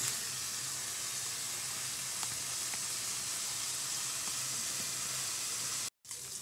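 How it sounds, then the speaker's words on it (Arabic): Meat frying in a hot pan gives a steady, close sizzle that fills the whole stretch, with a few faint clicks and a brief dropout near the end. "اللحمه بتاعتي اتحمرت، شايفين، وخدت لون حلو"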